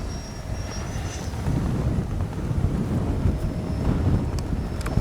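Freewing 90mm F-22 RC jet coming in to land, a steady low rushing roar with heavy wind buffeting on the microphone and a faint high whine over it.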